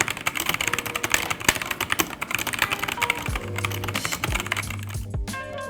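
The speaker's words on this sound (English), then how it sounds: "In case you're wondering how the optical switches sound on the Celeritas, we made a short clip just for you." Rapid typing on a BenQ Zowie Celeritas II keyboard with optical switches, a dense stream of close, crisp keystrokes, with a few louder thocks and spacebar-like hits near the end, alone.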